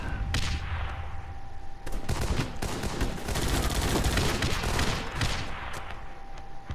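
Grenade launcher fire from the video game Guns Up!, a dense, loud fusillade of rapid game gunfire and explosive bursts rattling continuously one after another.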